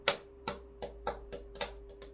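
Several light, hollow plastic taps and knocks in an irregular rhythm as a PVC resin siding panel is handled, close by, with a faint steady hum underneath.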